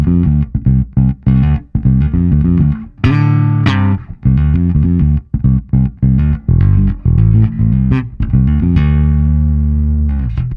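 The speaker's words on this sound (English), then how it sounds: "The preamp is based on a 12AX7 tube circuit, and this is the built-in distortion." A bass guitar plays a choppy riff through a Hartke LX-8500 amp's 12AX7 tube-based built-in distortion, with gritty, saturated notes in short punchy bursts and brief gaps between them, loud and upfront with no talking.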